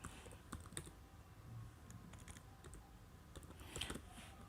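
Typing on a computer keyboard while entering census household data, a steady run of light key clicks at moderate level with a few louder taps, no voices.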